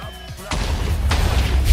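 A bomb goes off in a video game: after a brief stretch of game chatter, a sudden heavy blast hits, followed by a rolling, booming rumble and a second burst of impact noise.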